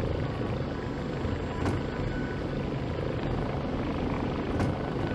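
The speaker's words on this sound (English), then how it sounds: "There's a cool effect with the rotor above me." Helicopter rotor in the VR combat flight game Warplanes 3 Air Corp, a steady, close, loud whirring chop that holds constant throughout with no one talking.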